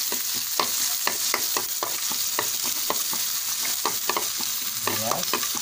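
Onion being sautéed in oil for chicken afritada: a continuous close sizzle broken by repeated sharp clicks and scrapes of a utensil stirring the pan, with no voices.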